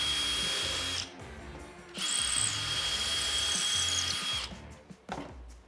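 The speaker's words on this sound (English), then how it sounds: "we need to drill a hole" A power drill bores a hole through a garden tool handle being upcycled into a barn door handle, whining loudly and steadily in several bursts with brief pauses between them, close by.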